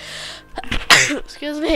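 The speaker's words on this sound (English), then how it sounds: "I gotta sneeze." A single sharp human sneeze bursts out loud and close in the middle of casual talk, with a speaker's voice right before and a short spoken apology after it.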